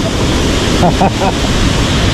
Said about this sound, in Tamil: உங்களுக்கு தெரியுதா ஃபால்ஸு ஐயோ எவ்வளோ வேகமாக தண்ணி வருது பாருங்க